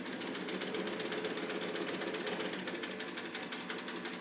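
A pink all-metal 1950s Brother Atlas sewing machine, made in Japan, stitches through leather with a fast, steady mechanical chatter, loud and close, with no talking.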